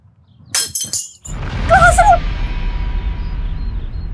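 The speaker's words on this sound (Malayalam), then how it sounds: "ആ ചായ ഗ്ലാസ് കൊണ്ട് എടുത്ത് എറിഞ്ഞ് പൊട്ടിക്കണ എന്തിനാ" A loud, sharp crash of a tea glass being thrown and shattering, then a steady noisy background with a faint voice.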